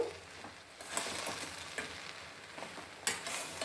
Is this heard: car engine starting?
no